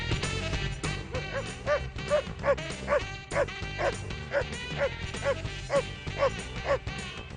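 A German Shepherd police dog barks repeatedly in rapid, rhythmic bursts during an attack training drill, close and loud, with yips and whines mixed in over background commotion.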